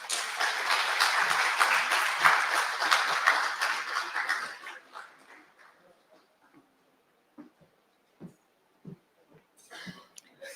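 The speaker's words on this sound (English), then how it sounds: "Another hand of applause for the Chief Executive." Audience applause at a port facility operator agreement signing ceremony in Richards Bay, dense clapping for about four seconds that fades out, followed by scattered isolated claps and quiet murmurs.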